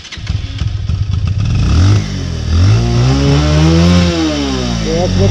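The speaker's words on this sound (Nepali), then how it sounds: "हरि दाईको बाइकले तानेर पुरै धुवा उठाएछ" A motorcycle on a ride through hilly Nepal, hard to start and trailing smoke, revs up close and loud, its engine pitch climbing and falling in repeated sweeps.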